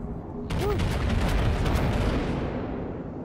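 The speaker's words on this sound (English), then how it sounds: "Oh, he's after shooting the other turret now." Heavy naval cannon fire from a battleship in World of Warships, a sudden loud boom that erupts and then rolls on as a sustained rumbling blast, fading slowly with no talk over it.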